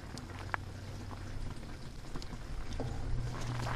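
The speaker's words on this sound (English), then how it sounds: "Well, I hear the motor running." A small water pump motor runs in a hydroponic strawberry tower, a steady low hum mixed with bubbling, trickling water, continuous and fairly close, with no talking.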